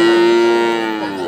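A Sahiwal bull at a cattle farm lets out one loud, close, sustained moo that fades slightly toward the end.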